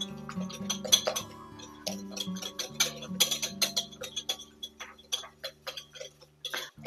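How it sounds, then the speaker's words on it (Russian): Eggs whisked with sugar, baking powder and vanillin in a bowl, a rapid run of light clicking and clinking strokes against the bowl over a low steady hum, fairly faint and close, with no talking. "взбиваю чуть-чуть, чтобы все хорошо перемешалось"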